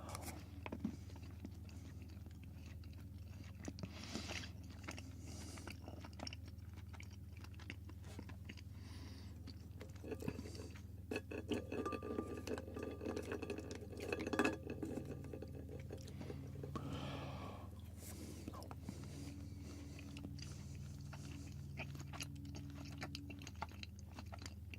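Soft jelly sweets with a marshmallow-like give are chewed close to the ear in a quiet setting, with steady moist mastication and occasional crunchy bites running throughout, over a low constant room hum.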